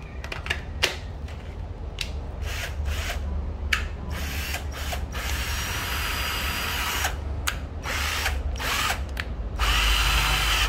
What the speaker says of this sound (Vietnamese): một cây Hitachi nha các bạn cây Hitachi cây khoan ha